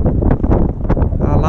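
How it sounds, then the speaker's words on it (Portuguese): Strong 25 km/h wind buffets the microphone out on the Tietê River during a fishing trip on a small boat, a loud continuous roar with gusty swells that dominates the whole moment, with a voice talking faintly underneath. "Lembrando, galera, um vento de 25 km/h esse aqui, ó."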